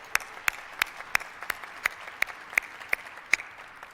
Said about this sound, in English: let's applaud the heroic effort of our frontline healthcare workers and volunteers here at Ford Field and statewide